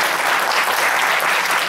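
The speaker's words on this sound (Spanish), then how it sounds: "vamos a iniciar con un fuerte aplauso para nuestro señor conferencista" A conference audience gives a loud, dense burst of applause to welcome the lecturer, close and continuous throughout.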